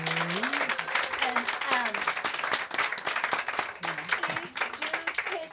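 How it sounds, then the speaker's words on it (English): Audience applause and clapping at an evening poetry reading, sustained across the room while voices talk and call out over it, with a lively crowd sound throughout. "how about a round of applause for"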